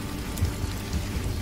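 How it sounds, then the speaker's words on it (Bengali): Heavy rain pours down in a storm, a dense, continuous wash of close drops striking surfaces, with low soft rumbles rising now and then beneath it and no voices. "সাথে সাথেই মুষলধারে বৃষ্টি নামল।"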